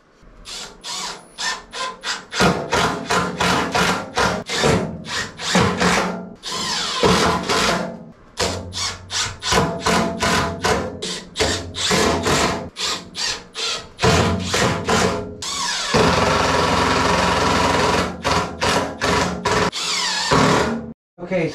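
Power drill driving screws into the casters on a Ridgid jointer's leg stand, loud repeated bursts of whirring separated by short pauses, with a long sustained run near the end, close up.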